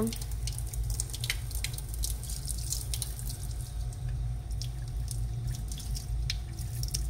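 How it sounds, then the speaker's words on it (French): Water splashing and trickling over a cyanotype print as it is rinsed, with irregular drips and sharp splashes layered over a steady low running-water rush, close by and moderately quiet. "maintenant on rince le cyanotype."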